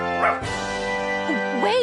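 A cartoon dog yips and whimpers in short, high, whiny bursts with rising and falling cries, heard close and fairly loud in a cartoon scene.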